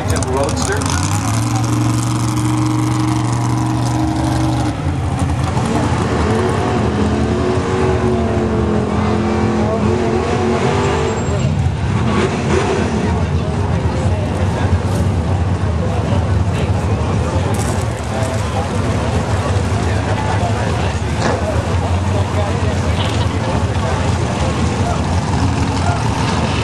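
A 1979 Pinto and a 1932 Phantom Roadster at a drag strip, engines droning loudly and steadily throughout with rising revs near the start, while a commentator talks over the noise.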